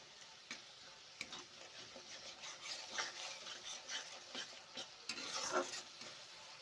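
Fish-head masala for moong dal is stirred in a pan, a faint close series of soft scraping strokes and light sizzling in an irregular rhythm, with no voices.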